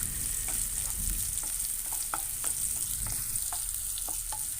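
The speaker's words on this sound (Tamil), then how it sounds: "வெங்காயத்தை போட்டுக்கிறேன். போட்டு நல்லா வதக்கிக்கலாம் வெங்காயத்தை." Sliced onions frying in hot oil for a Yippee chicken 65 noodle dish, a steady close sizzle with small crackles and pops scattered throughout, no voices.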